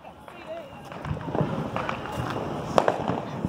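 Fourth of July fireworks pop and crackle at a distance in an outdoor neighborhood, with faint bursts and wind over the microphone, while people talk close by.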